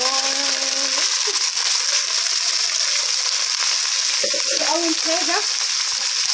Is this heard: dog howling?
no